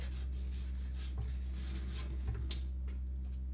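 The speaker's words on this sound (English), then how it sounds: "you put salt on it, get that all over, and then you just rub it around here" A salted lemon rubbed around a surface during household cleaning, giving a steady close scratchy scrubbing rasp with a few brief stronger strokes under a constant low hum.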